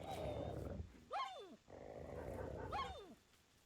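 Dogs in the video game Clanfolk give two rising-and-falling growling calls over a steady low rumble, each lasting about half a second.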